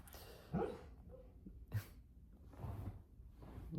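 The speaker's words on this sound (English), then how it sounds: "sleep barking" A dog named Bill barks softly in his sleep, a few muffled, quiet woofs and whimpers spread apart over a low background hum.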